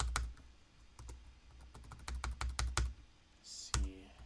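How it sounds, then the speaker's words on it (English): Keys typed on a computer keyboard while trying to start a game, irregular clicks that speed into a quick burst of close, crisp taps, then a louder single strike near the end. "I am typing 1 and nothing is working."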